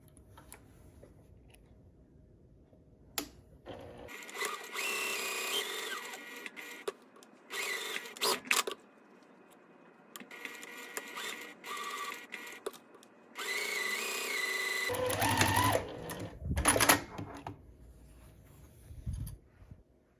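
Sewing machine stitching fabric pieces for a mini tote bag ornament, several separate runs of rapid mechanical chatter with quiet pauses between, fairly faint and close.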